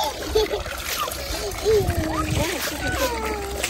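Water splashing and sloshing in a stream as clothes are washed, with irregular splashes over a running-water background while children's and adults' voices chatter nearby.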